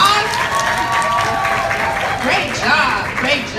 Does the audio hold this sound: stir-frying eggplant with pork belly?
no